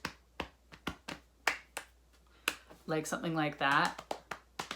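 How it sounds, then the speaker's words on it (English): Gentle hand taps or soft claps, a series of sharp, quiet, evenly spaced strikes close by, with a person speaking briefly partway through. "I really like clapping or like tapping, like gently."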